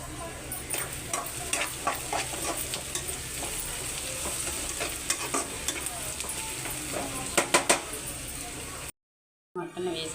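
Onions fry in plenty of oil with green chillies, tomatoes and salt for a mutton curry, a steady soft sizzle broken by repeated scrapes and clacks of a stirring spoon, with a brief silent gap near the end.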